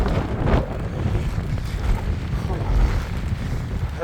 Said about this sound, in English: while I'm still battling this wind a bit